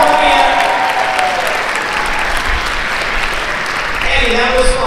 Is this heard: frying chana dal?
no